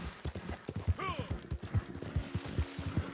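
Horse hooves clop steadily in the Red Dead Online video game, a quick rhythmic gallop, close and clear. A brief whistle-like call sounds partway through, and no one speaks over it.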